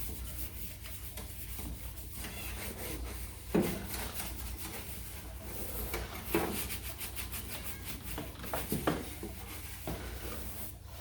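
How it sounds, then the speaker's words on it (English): A rabbit cage being scrubbed with soap and water, heard as close, uneven brushing and rubbing strokes with a few sharper knocks against the cage surface. "I'm going to just give it a quick scrub with soap and water"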